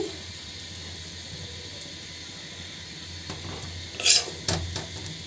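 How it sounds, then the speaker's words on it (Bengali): A fried egg lifted from a hot pan: a low, steady sizzle runs throughout, then two sharp metallic clinks and scrapes of a utensil against the pan arrive close together near the end. "তো এখন ডিমটা উঠায় নিচ্ছি।"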